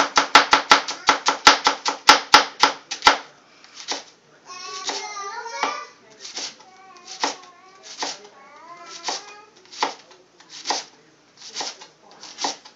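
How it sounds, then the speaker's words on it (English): Green cabbage being finely chopped with a knife on a board, a fast run of sharp, even chops at first, then slower spaced strikes with a child babbling between them. "we're just taking our green cabbage and just chopping it nice and fine"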